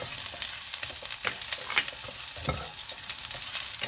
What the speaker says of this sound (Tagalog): Igisa na tayo ng bawang, then sibuyas para sa ating sardinas.